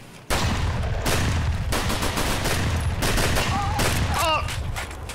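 Dense, continuous automatic gunfire in Escape From Tarkov, loud and close, with rapid shots rattling for about five seconds and a brief voice partly masked near the end.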